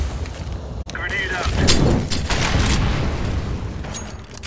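Grenade blast in a shooter game, with a sharp click and brief silence followed by a heavy rumbling boom and lingering debris noise, while a person talks over it.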